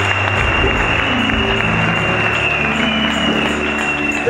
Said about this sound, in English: Give a clap of it to Jesus.